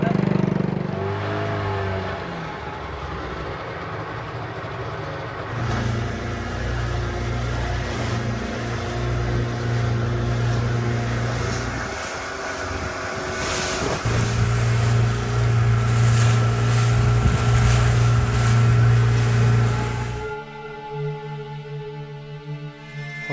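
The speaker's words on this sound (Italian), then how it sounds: "Quella è la mia barca e sto per andare al cimitero." Motorboat engine droning steadily on the way to a cemetery, a low hum that swells louder midway and cuts off near the end, with voices talking over it at times.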